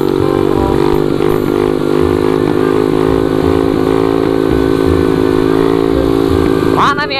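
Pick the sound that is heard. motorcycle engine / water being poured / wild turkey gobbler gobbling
motorcycle engine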